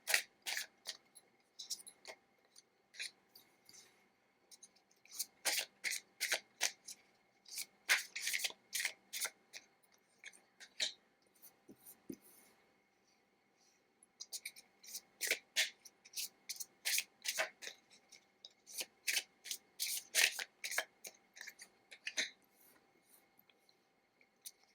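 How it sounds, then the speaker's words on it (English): Tarot cards are shuffled in repeated bursts of crisp riffling and slapping, close and fairly quiet, with pauses between rounds and no talk. "I will start shuffling your cards now."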